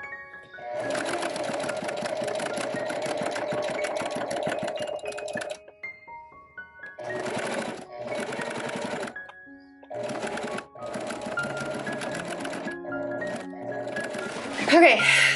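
A sewing machine stitching wire cording into cosplay wings for a Handmaid's Tale costume: steady fast needle chatter in several long runs separated by short pauses, close and continuous, with someone talking over it.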